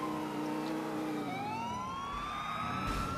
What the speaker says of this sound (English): Oh, no, there's an ambulance.